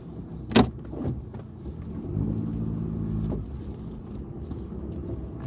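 A car moves slowly through snow, a low muffled engine rumble with a steady crunching drone, preceded by a sharp thump; no talking.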